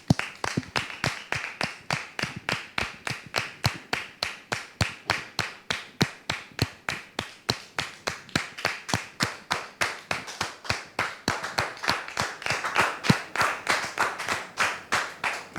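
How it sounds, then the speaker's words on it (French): A studio audience claps steadily for about fifteen seconds to welcome guests onto the set of a French talk show. The sharp, dense handclaps come at an even rhythm and stay loud throughout, with no talking over them. "je demande au public de les recevoir avec applaudissements"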